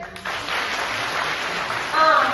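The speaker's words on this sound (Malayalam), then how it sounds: "നിങ്ങളൊന്ന് കൈയടിച്ചേ" School festival audience clapping in a hall, a steady crowd patter that starts abruptly and holds, swelling slightly louder near the end.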